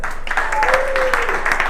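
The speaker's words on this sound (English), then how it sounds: "I want you guys to give yourselves a round of applause real quick" A seated audience breaks into a brief round of applause, dense clapping under a few faint voices, heard close and steady throughout.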